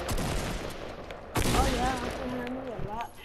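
Video game gunfire bursts out in rapid shots, with a sharp loud blast around the midpoint, while a voice talks over much of the action.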